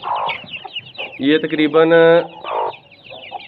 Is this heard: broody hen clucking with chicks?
yes